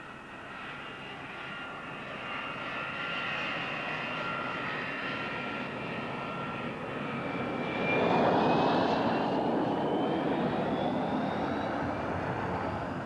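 An RAAF Mirage IIIO delta-wing jet fighter with an Atar turbojet taxiing, its steady whining turbine roar holding near and loud, then swelling louder about two-thirds through as it draws closer.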